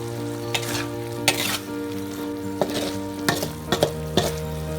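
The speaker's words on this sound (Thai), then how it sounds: "ผัดให้ส่วนผสมทุกอย่างเข้ากัน ใส่ซีอิ๊วดำ เพิ่มสีสัน" Silkworm pupae are stir-fried in a wok with seasoning, oyster sauce and dark soy sauce. The steady sizzle is broken by several clanking spatula strokes at uneven intervals, close and fairly loud.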